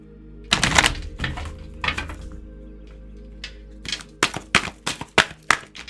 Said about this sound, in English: we need to shuffle those again